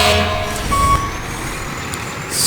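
A school bus in the video game EmergeNYC sounds a steady, loud tonal reversing beep over a low engine rumble, with a short hiss of air brake bursting at the end.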